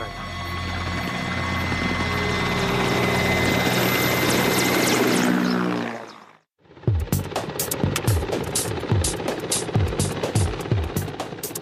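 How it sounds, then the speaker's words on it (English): Mil Mi-8 helicopter, loud sustained turbine whine and rotor drone that fades out over six seconds, followed after a short gap by heavy rhythmic rotor thumping close by. "the Mi-8 is a forgiving helicopter, and we managed to take off"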